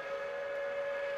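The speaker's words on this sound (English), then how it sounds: "let's blow the whistle, I guess" A steam locomotive whistle in Trainz Simulator 2012, one steady sustained tonal blast held throughout, loud and unbroken with no talking.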